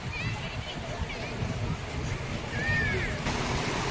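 Sea waves roll and break at Juhu beach in Mumbai as a low, steady wash mixed with wind, while people talk over it nearby.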